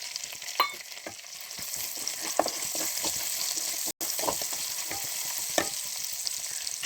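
A handful of curry leaves drops into hot oil while beef fry is being made, sending up a steady close sizzle and spluttering crackle, with scattered stirring clicks and pops throughout and no voices.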